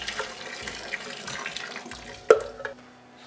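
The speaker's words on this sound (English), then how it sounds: "We'll rinse this out with some hot water too." Hot water running from a tap while a beer brewing kit is rinsed out, a steady close splashing stream with a sharp knock partway through.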